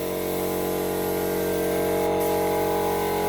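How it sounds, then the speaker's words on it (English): A spray gun paints a Golf MK1 car, giving a loud, steady hiss that runs unbroken over a constant compressor-like drone. "See the difference in spraying technique."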